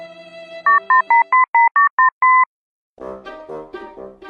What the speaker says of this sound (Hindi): चल एक बार फोन मिला के देख लूं।